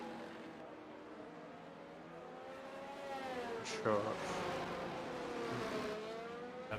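Racing cars in a Formula-style video game at the Singapore circuit hum and rev as they line up, engine tones rising and falling under a commentator's voice, fairly faint.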